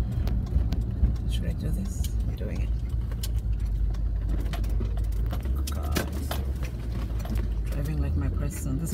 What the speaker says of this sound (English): There's a bus there that stopped in the bus stop, and a car behind, right in front of the light.